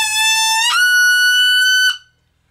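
A wood duck call blown with rising force until the reed breaks over, giving a sustained reedy whistle that jumps abruptly to a higher squeal, then stops cleanly; loud, close and alone.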